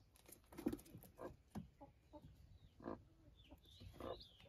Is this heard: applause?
no